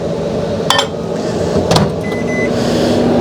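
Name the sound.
microwave oven heating bait mold plastic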